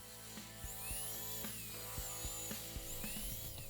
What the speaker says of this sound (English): out comes the good old rotary tool and the wire wheel